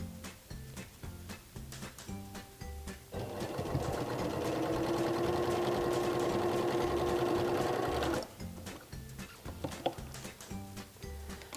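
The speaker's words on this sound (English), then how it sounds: "we don't even have to pin them. We can just sew them" A sewing machine hums in a steady, fast-stitching run for several seconds, joining quilt block pieces, with softer handling and quiet noises before and after.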